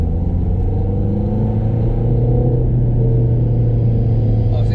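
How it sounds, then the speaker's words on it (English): A Ford Fiesta Zetec S with a small diesel engine and modifications drones with a steady low rumble as it pulls under acceleration, close and fairly loud throughout. "For a diesel, a small engine diesel, it sounds really good"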